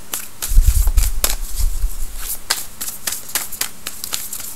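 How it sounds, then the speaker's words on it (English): Tarot cards are shuffled up close in quick, irregular crisp flicks and riffles, with a soft low rumble under the first couple of seconds. "Let me go ahead and keep shuffling here."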